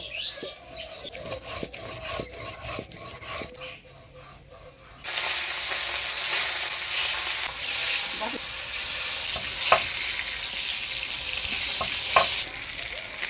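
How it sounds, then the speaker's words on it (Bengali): Rohu fish pieces frying in hot oil for kalia: a quiet start with light stirring clicks, then a loud, steady sizzle that continues with occasional scrapes and pops. "মাছের কালিয়া করবো, সেই জন্য মাছগুলো আমি একটু লাল করে ভাজিয়ে নিলাম।"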